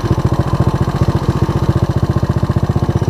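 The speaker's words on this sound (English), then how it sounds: "You guys hear a little top end noise because I do run the valves" Honda ATC185S three-wheeler engine idling with loosely adjusted valves, a steady rapid low thumping pulse with a light ticking top-end clatter riding on it, close and continuous.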